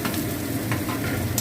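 Grated pumpkin frying with onion, crushed garlic and green chili, a steady close sizzle with a few soft stirring scrapes, no talking.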